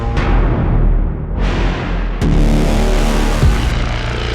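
Deep synthetic braam-style hits for a cinematic trailer signature sound, with loud brassy low drones that swell, cut and re-strike several times over a few seconds, alone with no voices.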